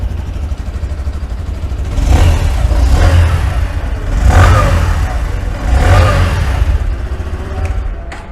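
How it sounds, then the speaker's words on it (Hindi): A fuel-injected Bajaj Platina 110 motorcycle idles close by with a steady low thump from the exhaust, then revs up three times in rising, swelling bursts before dropping back to idle. "ऐसा कुछ साउंड है फ्यूल इंजेक्टेड गाड़ी के साथ में।"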